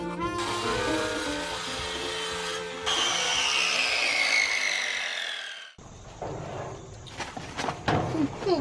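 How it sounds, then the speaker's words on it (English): A new DeWalt power drill bores holes while a chicken feeder is built, with a rising whine and a rough grinding bite into the material, followed by shorter bursts of drilling and scraping. "And this new DeWalt drill got from one of our viewers."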